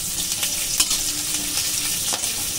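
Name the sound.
five-spice, chopped garlic and green chilli frying in oil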